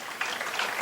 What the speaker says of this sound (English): About a big round of applause for the Uniontown seniors